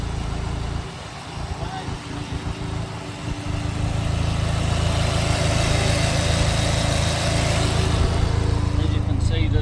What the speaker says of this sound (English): that's been sat here for probably 20 minutes at idle